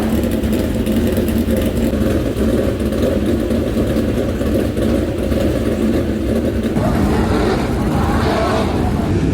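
Race car engines roaring steadily during a dirt track heat race, a dense continuous drone of several cars that swells louder near the end, with an announcer talking over it.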